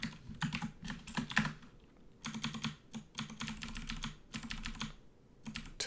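Fast, steady clatter of a computer keyboard during a Dungeon Crawl Stone Soup roguelike session, with some keys, including Tab, struck noticeably hard in close, loud bursts and short pauses.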